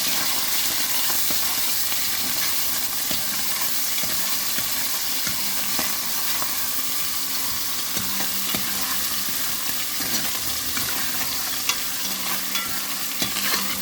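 Dried carp frying with onion in a hot pan, a steady close sizzle and crackle that runs the whole time with occasional stirring scrapes, and no talking.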